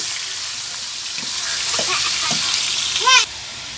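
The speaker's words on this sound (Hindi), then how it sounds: "चिकन को सबसे पहले चिकन को ठीक तरह भून लेना है" Chicken pieces sizzle and fry in oil for chicken karahi, a steady close hiss with scattered scraping stir strokes, ending in a brief bright clatter before cutting off.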